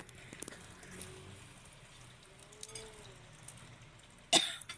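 A single sharp cough near the end, loud against a quiet background murmur, from someone eating balut.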